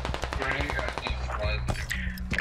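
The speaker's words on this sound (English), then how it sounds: "We're getting sniped at." Sniper gunfire in a base-defense video game, with rapid close cracks and thuds packed into a short burst under the game's background sound and voice chat.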